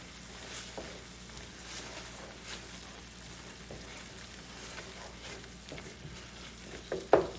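Pasta sauce with black pepper and spices being stirred in a pan ahead of tuna, cheese and sour cream, a quiet, steady low sizzle with faint scraping and a couple of sharper clatters near the end.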